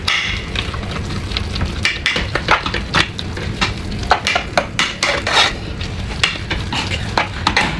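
Spoon scraping and tapping in a metal pan while nutmeg, white pepper and salt are stirred together over a low gas flame, a steady run of close, fairly loud clinks and scrapes.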